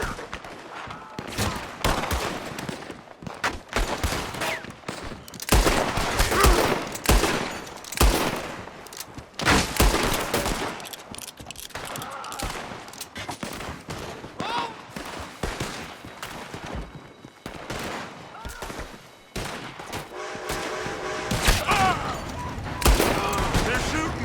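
Rapid bursts of gunfire crackle from a building during a Red Dead Redemption 2 shootout, with dense, repeated volleys and heavy firing throughout, mixed with game action sounds.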